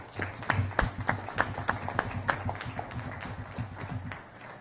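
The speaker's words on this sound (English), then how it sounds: "Let's give her a round of applause." An Atlanta Board of Education audience gives a short round of applause for a new District 2 board member, scattered claps rising and then fading over a few seconds, moderately distant.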